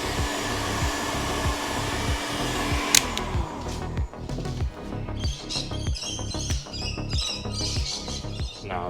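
A heat gun warms plastic car trim on a VY SS Commodore, its steady blowing roar running close and loud with a rhythmic pulsing pattern, and small chirping squeaks rising over it in the second half.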